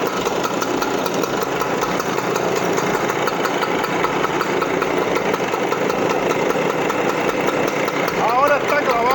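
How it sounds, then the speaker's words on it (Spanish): A Vespa 160 scooter engine runs at idle after starting, a continuous buzzy, slightly knocking putter close to the microphone, steady throughout. "Y arrancamos la moto"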